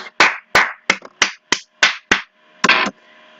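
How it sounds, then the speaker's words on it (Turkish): Several sharp hand claps in a quick, slightly uneven series, about eight close, loud slaps, ending with one final clap and a brief faint tail. "Bir alkış."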